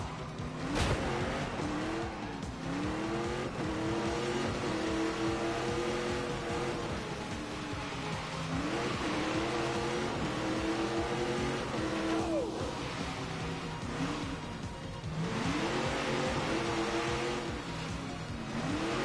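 A car is driven hard around a course, its engine roaring loud and close with rising and falling revs as it brakes and corners, with tire squeal mixed in and no talk.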